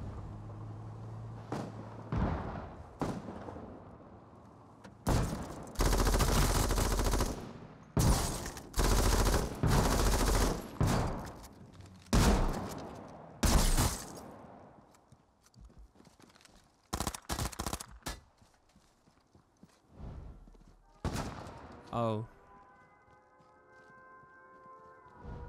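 A gunfight in the H1Z1 game around a cluster of trailers, with rapid bursts and single shots cracking in uneven volleys for several seconds, then thinning to scattered reports and a brief ringing tone near the end.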